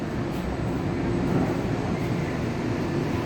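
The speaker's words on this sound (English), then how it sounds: "Got a helicopter coming." Helicopter flying over downtown San Antonio, a steady broad rumbling drone with no one talking.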